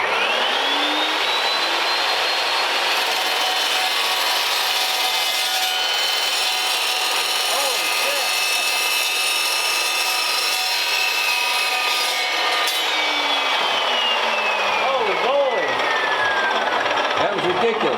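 Exhaust tubing being cut for a dual exhaust on a 1939 Mercury, a loud continuous high grinding whine with a tone that rises, holds and then falls away over about eighteen seconds.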